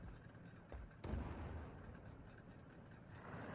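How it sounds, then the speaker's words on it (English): A tank cannon firing in a tank video game, a single sharp boom near the middle with a rumbling tail, preceded by a fainter distant shot, over low battlefield ambience. "somebody's shooting at the IKV"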